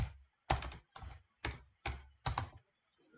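Keyboard typing while entering data in Power BI: five distinct bursts of rapid key clatter, close and moderately loud, separated by short pauses, with no talking.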